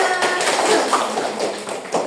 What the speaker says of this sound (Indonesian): beri tepuk tangan buat kelompok 5